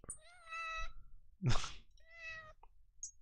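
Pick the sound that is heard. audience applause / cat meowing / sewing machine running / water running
cat meowing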